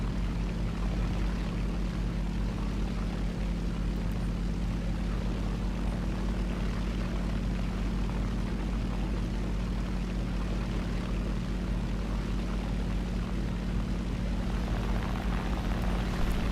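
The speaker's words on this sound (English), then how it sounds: "10 Gs in a prop plane" Propeller plane engine droning steadily in a War Thunder air battle, a constant loud hum with a low tonal band and broad roar that holds unchanged throughout, with no talking.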